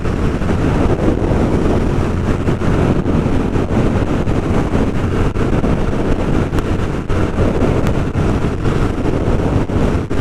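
A Royal Enfield Guerrilla 450 big single-cylinder motorcycle cruising at 60 mph around 5,000 rpm, a steady loud engine drone heavily mixed with rushing wind noise, continuous throughout with no speech.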